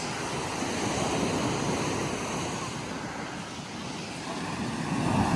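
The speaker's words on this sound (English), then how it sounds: "Waves crashing on the shore like the wedge." Waves crash and wash onto a steep, angled beach in continuous roaring surf, with heavy wind rumble across the microphone and no break in the churning noise.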